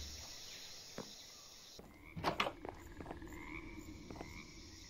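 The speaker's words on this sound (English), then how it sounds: "I hear frogs." Frogs croak in a video game: scattered croaks and clicks over a steady high insect-like hiss, with a louder burst of croaking in the middle, all fairly quiet.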